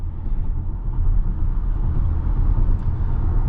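Tesla Model Y cabin on the freeway, filled with a steady, loud low road rumble and tire roar that holds evenly throughout without any talking.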